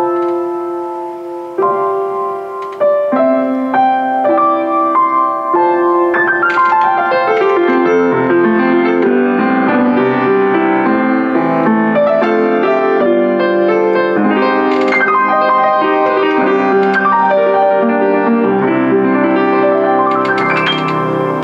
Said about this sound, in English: It gives you slightly more volume and a little brighter sound like this.